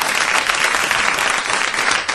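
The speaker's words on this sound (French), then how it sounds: "Merci Isabelle, on peut l'applaudir" Studio audience at a live 2005 RFM radio show applauding, a dense, steady wash of clapping hands that holds at an even level from start to finish with no voices over it.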